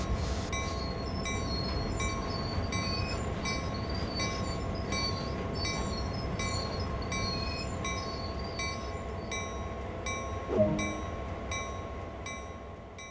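An EMD GP38-2 locomotive in Train Sim World 2 slowing to a stop under air brakes: steady rolling rumble, a sustained high brake squeal, and a brief louder clank near the end, with no speech.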